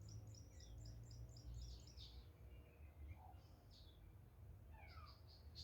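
Birds chirp and sing outdoors in short, repeated high calls scattered through the clip, faint over a steady low background rumble.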